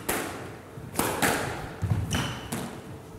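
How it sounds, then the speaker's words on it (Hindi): Squash ball strikes in a women's professional match at a Karachi open championship, a quick series of sharp close thuds and cracks off racket and walls echoing in the court. "बड़ी खूबसूरत वॉली ड्रॉप शॉट नूर का"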